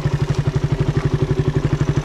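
A Suzuki Raider 150 motorcycle with its original exhaust idles close by, giving a steady, rapid, evenly pulsing engine throb with no speech.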